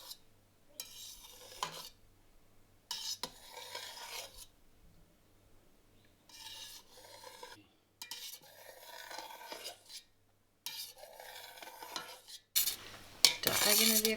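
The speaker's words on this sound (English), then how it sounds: "The way to cut the curd is down and across in little 12 millimeter cubes" A knife slices through soft cheese curd in a pot, cutting down, across and diagonally into small cubes, with intermittent wet scraping and rubbing strokes separated by short pauses and a louder clatter near the end.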